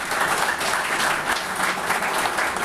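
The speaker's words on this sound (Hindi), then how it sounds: "तालियां बजा करके इस बात का स्वागत करेंगे" Applause from an audience at a birthday and honour ceremony, a dense, steady wash of clapping that stays loud and even throughout.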